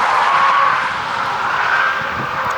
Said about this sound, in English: So, GGHY, this means Hyundai car, most likely. Sounds electric, right?